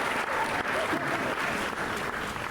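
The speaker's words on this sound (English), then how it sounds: "more applause. I love it." Applause sound effect triggered by a viewer redemption during a livestream: a dense, steady wash of clapping and crowd cheering lasting the whole moment, fairly loud and with no talk over it.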